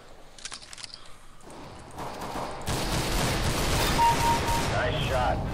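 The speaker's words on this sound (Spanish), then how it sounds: "Ahí, unos cuantos balazos." Gunfire in the video game Counter-Strike GO: a spell of shots and bursts that thickens into a sustained, dense barrage, with game noise and voices talking over it.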